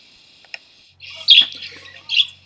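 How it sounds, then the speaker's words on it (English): A mulga parrot calls out in open country, giving a few bright squawking chirps in short bursts, fairly close and clear, with faint background murmur. "Here is the mulga parrot again, a little bit more in the wide open here"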